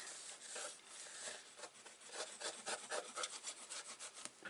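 A paper strip is rubbed hard onto a scrapbook album page in quick, close, rhythmic scratchy strokes, fairly faint and with no talking.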